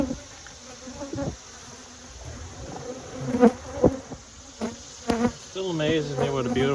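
Honeybees buzz around a hive during the goldenrod flow, a steady insect hum with louder buzzes as individual bees pass close by.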